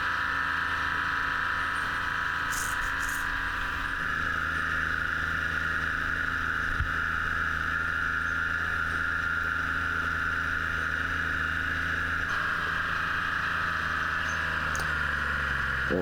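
Vintage log skidder pushing through deep snow: a steady, loud engine drone holds throughout with a slight shift in pitch partway, heard alone without voices.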